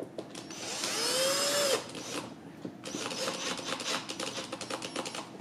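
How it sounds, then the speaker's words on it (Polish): A Saeco xSmall espresso machine running after repair: a loud buzzing pump whine with a rising tone for about two seconds, a brief pause, then renewed rattling, clattering operation continuing to the end. "Sprawdzimy jak ten ekspres chodzi."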